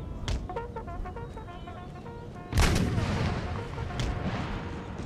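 Cannon artillery fires in a battle in the video game Empire: Total War, with a loud booming blast midway that rolls out over continuing battlefield noise, after an earlier sharper shot and a few scattered distant reports.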